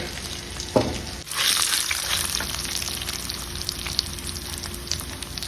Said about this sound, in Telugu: ఇదిగోండి నువ్వులు వేస్తున్నాను 1 స్పూను అంతే